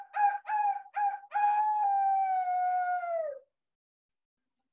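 A voice imitates a rooster crowing loudly, a few short clipped calls followed by one long drawn-out crow that trails off into silence.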